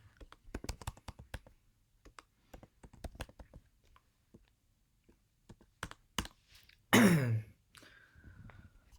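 Keys click in quick irregular bursts on a computer keyboard, close and distinct, with pauses between runs and one louder rustling noise near the end.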